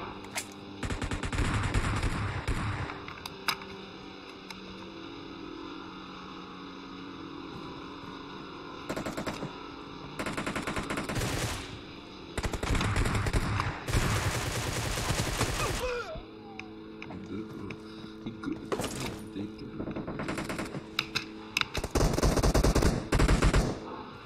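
Automatic weapons fire in bursts during a PUBG team deathmatch in a warehouse map, repeated rapid rattling volleys separated by pauses over a steady electrical hum, loud and close.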